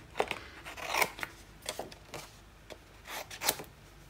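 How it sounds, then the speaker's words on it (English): Scissors snip through cardstock to roughly cut out a scrapbook banner title, a handful of quiet, crisp cuts spaced irregularly with soft paper rustles between, close and alone. "I'm just going to cut this out roughly with my scissors"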